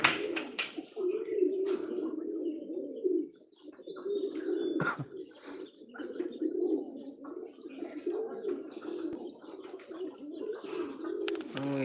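Continuous cooing and soft chirps from a pigeon farm flock, tiger males chasing females, layered and close with talk over them.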